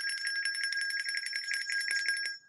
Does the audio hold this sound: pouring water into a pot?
no